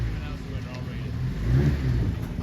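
A 1914 Bugatti Type 13 8-valve car at the Hampton Court Palace Concours d'Elegance gives a short engine rev that swells midway, heard beneath a public-address voice and outdoor crowd noise.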